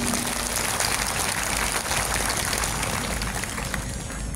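Applause for the regent at an outdoor evening gathering at the regent's office grounds, a dense, steady wash of many hands clapping, loud and continuous throughout.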